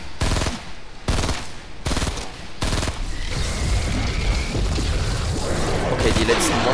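Rapid gunfire bursts from a Fortnite match, aimed at monsters, come as repeated loud volleys in the first three seconds, followed by dense continuous shooting and explosions with talk mixed in.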